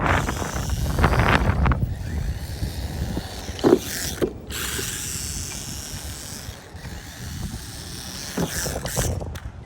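Hobby Plus Speck B RC micro buggy landing hard off a ramp, a sharp clatter of plastic and wheels near the middle, set among whirring motor and mechanical creaks outdoors with wind noise.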